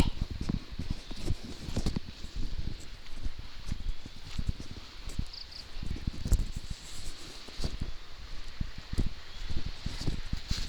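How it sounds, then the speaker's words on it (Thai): Rain falls on leaves in a garden orchard as a soft, steady patter with scattered louder drops tapping through, quiet and close, with no voices. "ฝนก็ตก"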